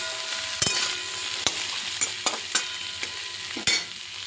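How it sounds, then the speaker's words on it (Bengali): Vegetables with turmeric and salt stir-fried in a pan, a soft sizzle under a series of sharp spatula scrapes and knocks, roughly seven or eight in a few seconds. "এবার এই সবজিগুলো ভালো করে কষবে।"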